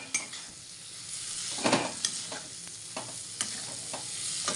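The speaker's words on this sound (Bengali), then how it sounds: "এটাকে কষতে থাকতে হবে কিছুক্ষণ।" Banana flower ghonto being stirred and sautéed in a pan, with a steady sizzle and repeated scraping strokes of a spatula against the metal, close by and continuous.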